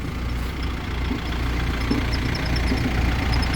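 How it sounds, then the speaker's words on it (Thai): A farm tractor engine runs steadily, driving a water pump through its PTO shaft linked to a 22-inch pump, producing a continuous loud low rumble and mechanical drone throughout with no talk. "เราสูบน้ำก่อน เราพามาดูสูบน้ำ เอารถไถนี่แหละ ประยุกต์"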